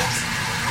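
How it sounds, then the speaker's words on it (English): Water rushes steadily through a toilet's supply line into the tank as the supply valve is opened, a continuous close hiss with no pauses. "we're going to turn on the water supply"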